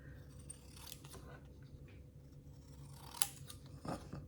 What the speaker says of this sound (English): And then I go ahead and just cut around the edge.